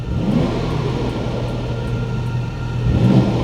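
A Porsche 911 Sport Classic idles with its exhaust valve closed, a steady, deep exhaust rumble that swells slightly near the end, heard alone without talk.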